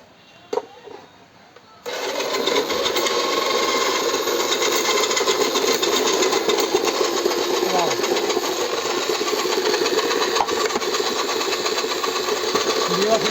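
A multi vegetable cutter slicing a hard potato gives a steady, loud mechanical whirring and grinding that starts abruptly after a brief quiet moment and continues without break.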